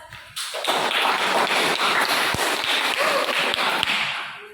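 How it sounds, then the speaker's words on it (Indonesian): A classroom group bursts into applause, many hands clapping loudly and steadily for about four seconds before fading out, with no one speaking. "Silakan beri aplaus."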